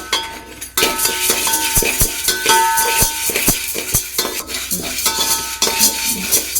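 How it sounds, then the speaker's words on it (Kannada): Lentils (dal) dry-roasting in a pan for sambar powder, with a steady scraping stir broken by repeated sharp clinks of a utensil against the metal pan, close and fairly loud, no talking. "ಚೆನ್ನಾಗಿ ಹುರಿಬೇಕು ಫಸ್ಟ್ ಬೇಳೆ ಚೆನ್ನಾಗಿ ಹುರಿಬೇಕು ಅಷ್ಟು ವಾಸನೆ ಎಲ್ಲ ಹೋಗಬೇಕು"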